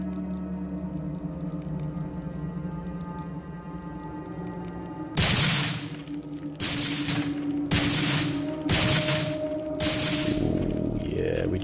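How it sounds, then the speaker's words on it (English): Pistol shots hitting barrels in the Shade: Wrath of Angels video game, five sharp loud reports spaced about a second apart over a steady background game hum. "we just shot those barrels, didn't we?"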